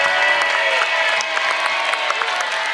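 Studio audience applause on the Indonesian TV game show Family 100, a steady, dense wash of clapping with some cheering that runs throughout at a fairly loud, even level.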